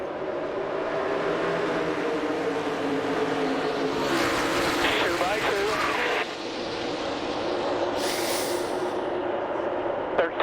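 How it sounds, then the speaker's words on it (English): NASCAR stock cars race in a pack at Talladega, a steady loud engine roar filling the whole stretch with swelling passes, while a commentator talks over it throughout. "Chase Elliott will hit the gas and put us under the green for stage 3"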